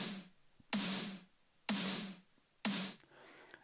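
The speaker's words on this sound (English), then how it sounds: "Maybe this one is a snare and it sounds like this on its own." Three separate snare drum hits from a music production template, each a sharp crack with a noisy, quickly fading tail, played alone and spaced about a second apart.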